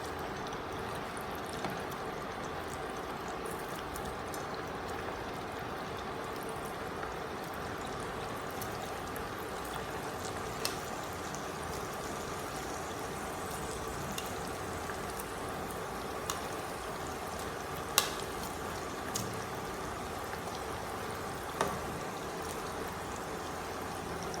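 A continuous low bubbling and crackling of chicken deep frying in hot oil for Korean fried chicken, steady and fairly quiet, with occasional faint pops over the long stretch.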